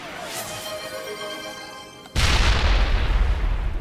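Grenade blast in the video game Mass Effect 1: after a couple of seconds of tonal game ambience, a sudden loud boom erupts and rolls on as a heavy, rumbling roar to the end, with no talking.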